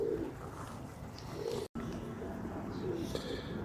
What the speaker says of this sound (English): And quite a few pigeons as well.